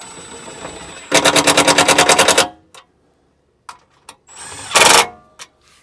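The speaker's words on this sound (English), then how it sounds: "I'm just going to go through and tighten this up" A power screwdriver runs in a long rapid burst, then a shorter one, driving 7mm screws into a car's plastic undertray on a Ford Explorer ST, with small clicks and handling noises between the bursts.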